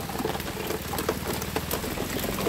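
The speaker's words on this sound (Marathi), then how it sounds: "हा काय पाऊस जायचं नावच घेत नाही आहे" Steady monsoon rain falls continuously on surfaces nearby, a dense even patter with scattered louder drips and no voices.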